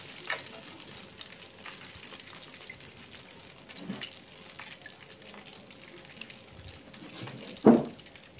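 Dusted fried chicken pieces frying in hot oil, a quiet steady sizzle and crackle throughout, with a few louder clatters near the end.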